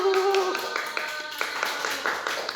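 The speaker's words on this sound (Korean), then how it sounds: "박수로 시작할까요?" A class claps together to open a lesson in a classroom, a burst of scattered handclaps with voices calling out over them, close and fairly loud.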